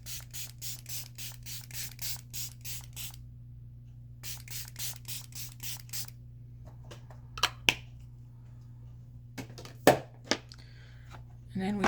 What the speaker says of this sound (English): Okay, let's spray the face.